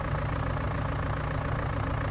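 A tractor engine idling in Farming Simulator 19, a steady low rumbling drone that holds constant throughout, fairly close, with no voices over it.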